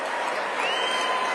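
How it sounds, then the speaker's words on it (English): A convention crowd cheers and applauds, a dense, steady wash of many voices and clapping at moderate distance, continuous throughout without a break. "the people in the crowd, though, are cheering for Nick Fuentes"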